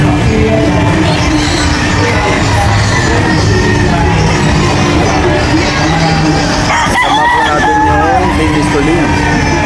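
Game fowl roosters crow over a loud, dense crowd din at a game fowl expo, with voices talking and calling throughout and the crows partly buried in the noise.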